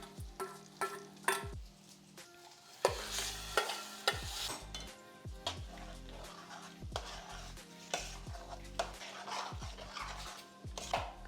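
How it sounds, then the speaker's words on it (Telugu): A spoon stirs a tempering of dried red chillies in a pan for a bitter gourd dish, with repeated scraping strokes over a faint sizzle, close and fairly quiet, spaced about every half second. "సో తాలింపు కలిపేసుకుందాం."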